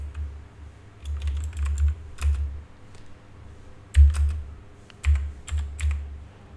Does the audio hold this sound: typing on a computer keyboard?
yes